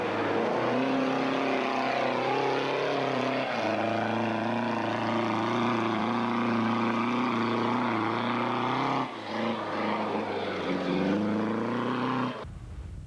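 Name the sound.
Ford Ranger racing in the Nampo 200 rally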